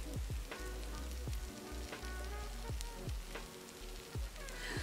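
Cold cosmetic foam crackling and fizzing close up, a dense stream of tiny crisp pops with a few sharper snaps, steady and unbroken like frying.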